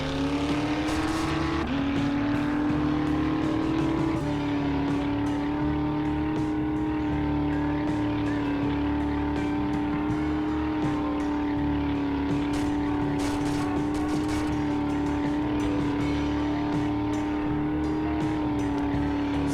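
A vehicle in 7 Days to Die drives across a snowy white desert, its engine droning steadily and loudly with a smooth sustained tone that shifts pitch briefly early on, then holds constant with faint tire noise.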